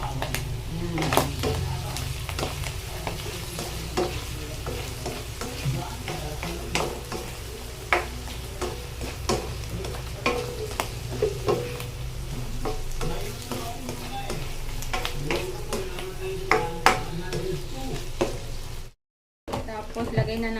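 Pechay stir-fried in a pan with soy sauce gives a constant loud sizzle with frequent scraping and tapping from the spatula. It cuts to silence briefly near the end.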